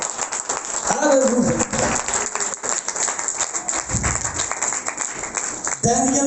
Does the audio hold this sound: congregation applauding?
yes